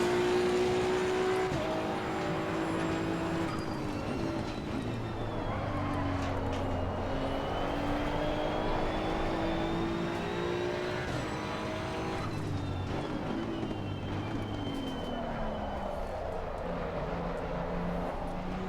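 Race car engine in the GT2 racing game, a sustained high engine drone rising and falling through gear changes as the car runs continuously and close, with no talk over it.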